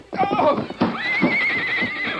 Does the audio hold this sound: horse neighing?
yes